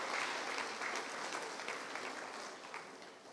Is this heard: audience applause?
yes